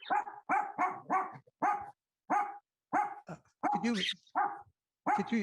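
A dog barks repeatedly and close, in a steady run of sharp barks with short gaps, loud and alone with no talk over it.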